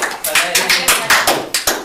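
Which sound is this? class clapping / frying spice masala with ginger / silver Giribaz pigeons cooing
class clapping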